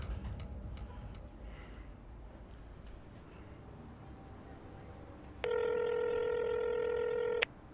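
Mobile phone dialing a call in a crime drama scene, a steady tonal dial beep lasting about two seconds near the end over a faint, noisy room background, with no speech.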